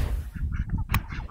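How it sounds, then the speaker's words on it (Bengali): Village ducks give a few short, nasal quacks close by, a quick cluster of calls over faint outdoor background. "দেখেন হাঁস, গ্রাম অঞ্চলে প্রচুর হাঁস"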